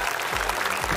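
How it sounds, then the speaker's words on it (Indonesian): Audience applause at a children's talent show stage performance, a steady wash of clapping filling the short moment without pause. "Tepuk tangan dong buat mereka dong."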